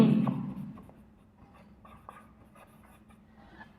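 Marker or chalk strokes on a board during an English grammar lesson, a few short scratchy squeaks scattered across a mostly quiet stretch after a fading sound at the start, close and faint.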